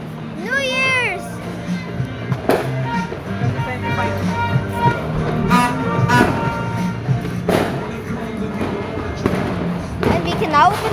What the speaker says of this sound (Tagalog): 5 minutes until the fireworks come